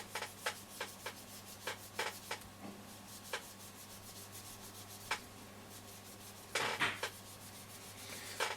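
Metal polish wadding scrubs over a Roberts R600 radio case in faint, close rubbing strokes, with scattered light scratchy passes and a couple of slightly louder bursts over a quiet hum.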